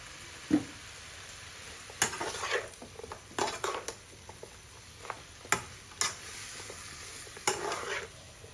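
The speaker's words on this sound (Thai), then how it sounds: "พริกจะไม่เจียวไปกับกระเทียมนะคะ จะมาผัดรวมแบบนี้นะคะ" Chili and mixed vegetables, with fresh shrimp, are stir-fried in a pan, the spatula clinking and scraping repeatedly against the metal in an uneven rhythm over a faint, steady sizzle, close by.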